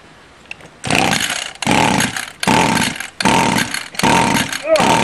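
A Stihl weed eater with no primer bulb sputters as someone pulls to start it, loud close bursts of engine noise repeating in about five short runs separated by brief pauses.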